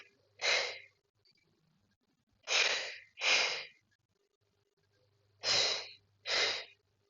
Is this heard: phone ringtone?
no